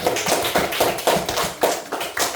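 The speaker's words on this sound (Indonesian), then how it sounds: "Oke, tepuk tangan dulu Apta." A class of students claps for a classmate in quick, even bursts that repeat at a steady rhythm, sharp and close, with no talk.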